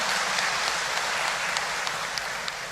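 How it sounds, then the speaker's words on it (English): Audience applause during a long memorial service, a dense, even wash of clapping from a sizable crowd, steady and fairly loud throughout with no voices standing out. "A round of applause for that, please."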